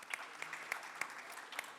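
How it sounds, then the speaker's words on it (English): A small, faint scattering of claps rises from the audience at a tourism forum panel in Bodrum, individual hand claps standing out sparsely against a thin, distant backdrop. "A round of applause for him."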